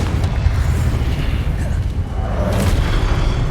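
A Confringo blasting-spell explosion in Hogwarts Legacy, a dense booming rumble that swells and rolls on for several seconds, with a brighter burst of crackle late in the sound.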